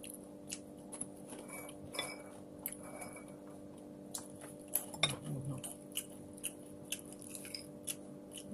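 Crunchy peanut snack chewed close to the mic, with faint, sporadic crisp bites and crunches over a quiet room hum, plus occasional light clinks.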